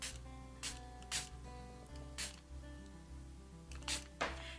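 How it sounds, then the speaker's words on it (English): Several short bursts of spritzing from a spray bottle mist water onto card, faint and spaced irregularly over a low background hum. "I'm going to get my water bottle, my spritzer bottle, and just spritz over the top of that"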